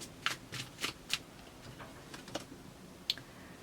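Tarot cards shuffled and handled while a card is drawn, giving a few quiet, separate riffling and snapping bursts against near silence.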